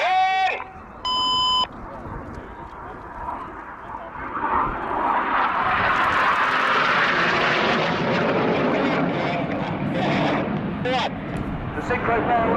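Red Arrows BAE Hawk T1 jets roar loudly overhead during a flying display at an air show, the jet noise swelling and sustained for several seconds after brief beeps, with a commentator talking.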